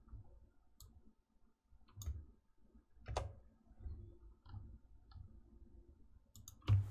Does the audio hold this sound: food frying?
no